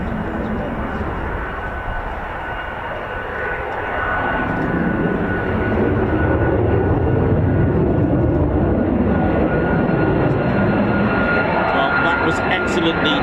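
F-35A fighter jets of the 48th Fighter Wing at RAF Lakenheath, a loud, sustained jet roar that swells and holds, with someone talking over it.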